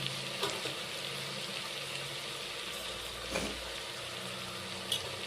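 Soaked rice frying in oil in a pan for pilaf, a steady soft sizzle with faint stirring scrapes throughout, no talking.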